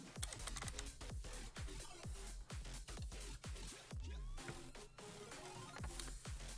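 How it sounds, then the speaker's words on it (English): Typing on a computer keyboard, with rapid, even clicking keystrokes close up and fairly quiet, running continuously with no talk. "So let's type that in and see what happens."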